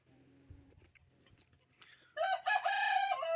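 Chickens cluck softly at first, then a rooster crows loudly and close by near the end.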